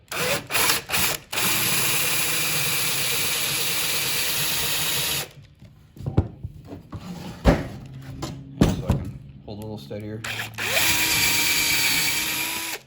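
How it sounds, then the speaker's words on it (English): A power drill whirs steadily for several seconds after a few short bursts while drilling into an old dresser for a mirror, then stops; a person speaks briefly before the drill runs again. "So we're just gonna take our drill."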